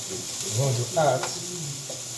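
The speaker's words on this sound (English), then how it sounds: "See that sizzling on the fire." Thai pork cubes sizzle softly while frying over a fire, a steady low crackle with brief stirring, as a voice talks over the cooking.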